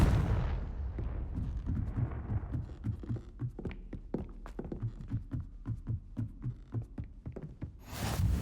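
A Confringo fire-blast spell in the Hogwarts Legacy video game: a loud blast rumbles and fades at the start, then a steady run of rhythmic thuds, and another sharp burst comes at the very end.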